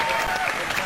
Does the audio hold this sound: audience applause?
yes